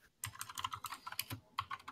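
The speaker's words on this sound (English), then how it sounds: "who's that typing?" Quick bursts of keystrokes clatter on a computer keyboard, close and fairly clear, in uneven clusters separated by short pauses.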